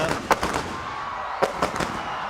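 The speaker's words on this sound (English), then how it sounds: "oh, the fireworks, that's a beauty." Fireworks go off at a T20 cricket match, with several muffled bursts in two loose clusters over a steady crowd and broadcast background.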